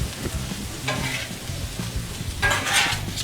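Beef stir fry with noodles tossed and sizzling on a 36-inch Blackstone griddle, steady frying hiss with scraping bursts of tossing near the start and again toward the end, close and moderately loud.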